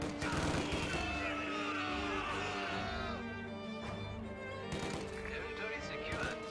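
Gunfire in a Company of Heroes match rattles in steady bursts under continuous battlefield noise, with a voice talking over part of it.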